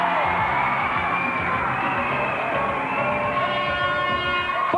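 A crowd at a BMX freestyle competition final whoops and cheers in a continuous loud wash of voices, with shouting rising and falling and no distinct clapping standing out.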